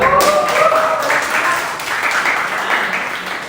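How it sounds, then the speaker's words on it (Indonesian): Students in a classroom break into a short round of applause, a steady wash of many hands clapping close by, with a voice briefly audible over it at the start. "Tepuk tangan dong."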